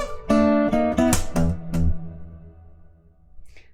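A guitar plays bar 3 of a blues shuffle called Black Coffee Shuffle, a short run of bright, picked notes and chords, close and clear, ringing out and fading at the end.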